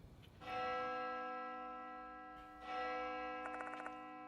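A tolling bell in the horror game Death Mark 2 strikes twice with long sustained ringing overtones, the second stroke layered with a faint rapid ticking near the end.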